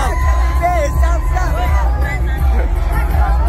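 Large crowd gathered at a YouTuber's meetup, a loud continuous babble of voices with scattered shouts and whoops close by, while someone talks over it.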